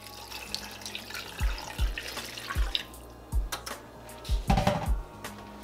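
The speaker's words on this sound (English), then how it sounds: "Add us a little more water." Water pours and splashes into a pot of pinto beans in bursts, with a few low thuds and clinks of cookware; close by, no talking.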